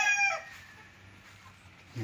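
Bred rooster on a walled farm lot in Liliw, Laguna, giving a short crow that fades within half a second, followed by quiet ambient background and a faint sound at the end.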